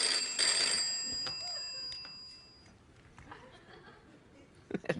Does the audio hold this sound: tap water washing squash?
no